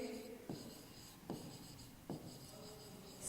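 Writing numbers on a board or paper during a maths lesson: three short, faint scratching strokes spaced about a second apart, alone in a quiet room.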